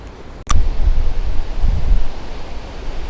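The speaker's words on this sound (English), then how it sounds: "this is a wind test" Strong wind buffets a microphone outdoors on a walk in Hull, trees and bushes bending; a sharp knock opens a steady, loud low rumble of gusts that swells and eases throughout.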